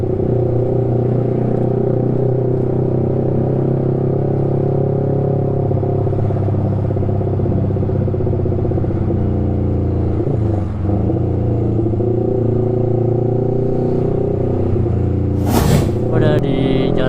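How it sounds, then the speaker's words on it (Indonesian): Yamaha R15 V3 motorcycle with a bored-out engine and loud custom exhaust riding on Jalan Raya Bogor at moderate speed: a steady, heavy engine drone with road rumble and wind, continuous and close throughout. "Lebih kencengan yang sekarang suara knalpotnya."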